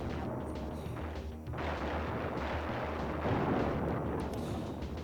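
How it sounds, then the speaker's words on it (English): Cannons firing in the Super Nintendo game Timeslip, a dense continuous barrage of booms and blasts over generic game music, steady and loud throughout with a heavier burst near the end. "it looks like we've got guys fighting cannons"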